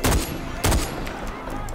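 Rapid bursts of gunfire from soldiers attacking a weapons cache in Far Cry 4, two heavy volleys near the start and middle, then a dense, continuous rattle of distant shots.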